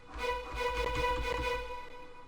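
Sustained synth strings from a trap beat, a dense held chord over a low rumbling bass, steady and moderately loud with no voices.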